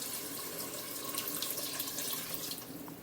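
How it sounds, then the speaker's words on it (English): Chicken stock made from organic bouillon cubes dissolved in water pours steadily into an Instant Pot. The stream is a continuous, fairly loud liquid rush that carries on for about three seconds. "So we'll add the chicken stock to the pot."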